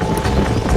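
Horse hooves gallop in Red Dead Redemption in a quick burst of dull, rapid clip-clop beats, loud and close, over a busy rumbling game soundscape.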